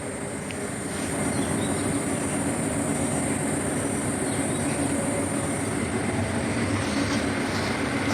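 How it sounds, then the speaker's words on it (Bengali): A train stands at platform 2 of Daulatpur railway station in Bangladesh, its steady, heavy rumble and hum filling the scene close by, with faint metallic ticks over a continuous drone. "দেখতে পাচ্ছেন আপনারা ট্রেনটি দাঁড়িয়ে আছে এখানে"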